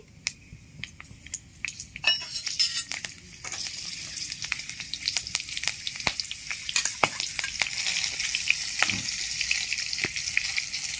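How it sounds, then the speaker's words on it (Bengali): Black cumin and slit green chillies sizzle in hot oil in a wok, a rising crackling hiss punctuated by sharp pops and a few light clinks of a utensil against the pan. "কড়াইয়ের তেল গরম হয়ে গেছে, আমি কালো জিরে ফোড়ন দিয়ে দিচ্ছি।"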